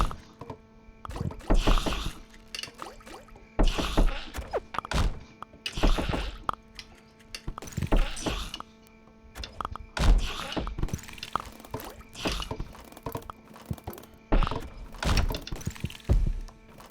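Enemies in the game Kingdom New Lands firing at a defensive wall, a string of heavy wooden thunks and cracks arriving in irregular bursts, loud and close, with no voices.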